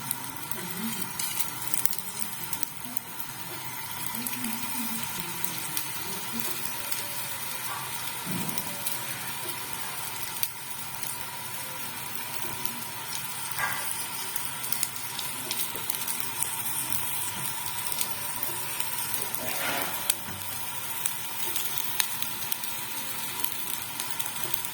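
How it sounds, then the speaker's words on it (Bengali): Potato tikkis fry in a lightly oiled hot kadai, a steady crackling sizzle like light rain running throughout, with occasional soft knocks, close and without speech. "এবার টিকিগুলো একে একে ভাজতে দেবো।"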